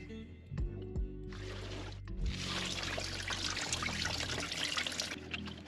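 Coolant gushes and trickles from a Lexus water pump, a sustained splashing pour that starts, pauses briefly, then continues steadily nearby over a low background hum.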